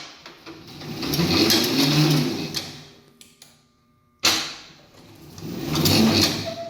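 A Rosback three-knife paper trimmer with a variable frequency drive and brake motor inches its knife rails up and down, giving a steady mechanical whir in two surges separated by a near-silent pause and a sharp restart clunk.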